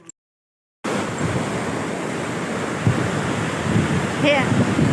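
A broad, steady rush of flowing water fills the scene, loud and continuous, with wind buffeting the microphone and a brief voice in the background.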